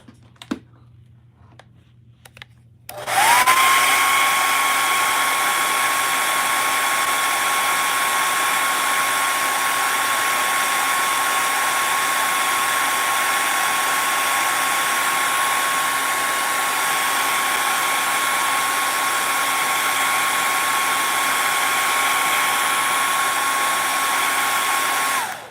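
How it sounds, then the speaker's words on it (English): A hair dryer switches on after a few quiet seconds and blows steadily and loudly to dry paint on a canvas, a constant whooshing hum with a high whine, running alone until the end. "I'm going to blow dry this so that I can paint my ghost."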